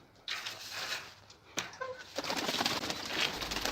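Pigeons take off with bursts of flapping wings, one or two brief soft calls between, then a steady rush of wingbeats close by.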